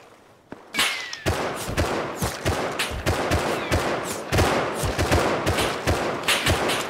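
Gunfire in the video game Rust comes in a dense, loud burst of rapid shots, sharp cracks repeating almost continuously after an opening pop, with overlapping reports filling the whole stretch.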